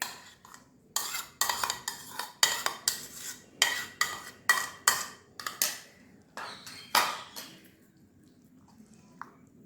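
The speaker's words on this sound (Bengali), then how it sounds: "এটা এর মধ্যে মিশিয়ে দেবো।" Juice-soaked fruits are stirred into eggless cake batter in a bowl, producing about a dozen rhythmic scraping, clinking strokes against the bowl, close and distinct, then trailing off into near silence.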